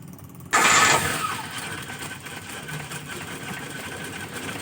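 A car engine is cranked and fires up from cold, a sudden loud burst settling into a steady close-up idle with a faint rhythmic ticking.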